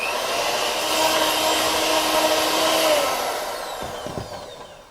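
Brownie batter for butterscotch swirl brownies is mixed with salt and baking powder: a loud, steady whirring motor drone runs throughout, holding level before easing off toward the end.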